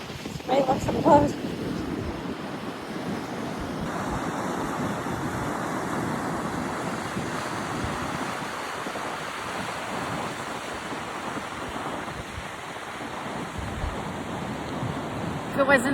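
Strong, gusty wind roaring across the microphone beside a small river or creek bridge in northeastern Iowa on a cold day, a continuous rushing bluster with a few bumps and handling knocks at the start and end.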